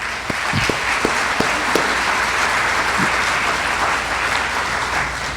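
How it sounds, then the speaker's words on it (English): Audience applause fills a hall at a school Teacher of the Year gala, a dense, steady wash of many hands clapping at moderate loudness, with a few sharper individual claps standing out early on. "If you give them a round of applause."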